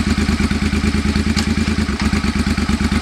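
A 2005 Suzuki Boulevard C50 motorcycle pulling in first gear gives a close, loud, evenly throbbing engine beat with a clattery edge, running alone without speech.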